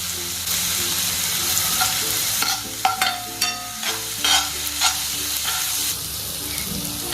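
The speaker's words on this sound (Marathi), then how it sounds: "मसाला छान होऊ द्यायचा याच्यातला कच्चापणा निघून गेला पाहिजे" Green chili, garlic, spices and asafoetida fry in oil on low heat for a vada pav filling, crackling steadily up close while a spoon stirs and scrapes the pan in a series of clinks.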